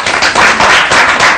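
An audience claps together for Saroja, a steady, dense burst of applause, loud and close, with no speech.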